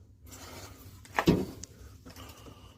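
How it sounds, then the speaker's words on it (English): A stuck relay inside a boiler Aquastat gives a short, sharp click or clunk near the middle, standing out once against a quiet room background. "That noise you heard was the relay in this Aquastat."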